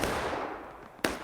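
Single loud cannon blast from a historical battle video game, a sharp boom near the end of the clip over a steady wash of battlefield noise.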